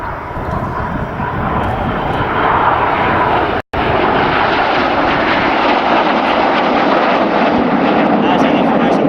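Red Arrows jet aircraft roar overhead at an air display, a loud, sustained engine rumble with a brief cut partway through, under a commentator's voice.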